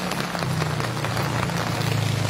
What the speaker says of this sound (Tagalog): Malakasin ang ulan